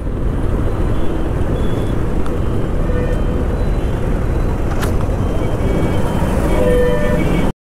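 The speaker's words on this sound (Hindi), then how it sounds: "हो गया भाई ट्रैफिक।" Continuous road traffic noise in Hyderabad, a loud steady rumble of passing vehicles with occasional faint horn toots, heard close by with no clear speech.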